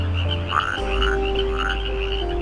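A frog croaks close by in a repeated rhythm of about three throaty calls over a steady low background, with no talking, heard as part of a storytelling for Andersen's Thumbelina fairy tale.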